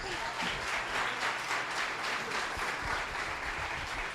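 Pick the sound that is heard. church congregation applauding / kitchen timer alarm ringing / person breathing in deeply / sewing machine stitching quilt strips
church congregation applauding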